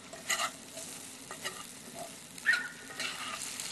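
Potatoes with rosemary cooking on top of a rocket stove give off a soft, uneven sizzle with a few brief scrapes and stirring clicks. The sound is fairly quiet and has no voices over it.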